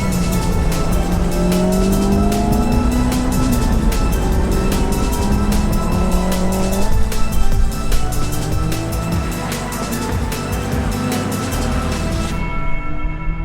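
A Honda Civic race car runs a time attack lap on track, its engine revving loud and close through rising and falling gear changes, with tire squeal, rattles and clicks over the steady drone.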